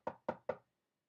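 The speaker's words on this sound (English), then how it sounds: "there was a knock upon the door." Three sharp knocks on a door in quick, even succession, close and clear, then silence.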